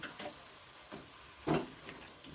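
Chopped capsicum is stirred into a frying soybean curry, with a soft sizzle and a few short spoon scrapes and taps, close but faint.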